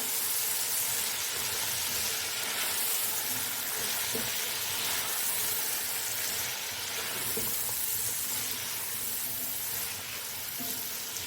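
Boiled, salted chicken fries with vegetables in a pan for Chinese rice, giving a steady, moderately quiet sizzle with faint clicks of stirring throughout.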